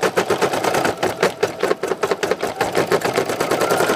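Embroidery machine stitching a small patch design, a steady fast mechanical chatter of needle strokes running continuously and loud at close range, with no talk.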